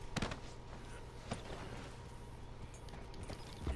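A Suffolk Punch draft horse's hooves clip-clop in Red Dead Redemption 2, faint steady footfalls with a few sharper knocks over low game ambience.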